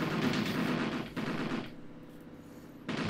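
Sustained machine gun fire from a Graviteam Tactics battle set in Afghanistan, a dense rapid burst for about a second and a half, a brief pause, then lighter scattered rounds and a renewed burst at the end.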